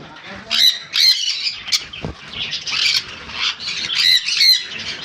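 Conure parrots in a bird shop squawk loudly and shrilly at close range, harsh screeches coming in repeated bursts, with some wing flutters among them.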